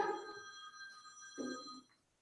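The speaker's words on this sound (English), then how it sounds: "That's the other counselor's phone going on there." A telephone rings twice in a school meeting room during a parent meeting, a short electronic trill heard at moderate distance with a pause between the rings.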